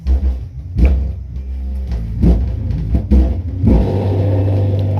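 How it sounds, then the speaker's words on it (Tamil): Deep bass pulses from a 12-inch subwoofer driven by a 5.1 amplifier during service work, booming in uneven bursts and ending in a sustained low drone, with no talking. "சப்புனுடைய சவுண்டு வந்து கம்மியாக வர மாதிரி இருக்குது"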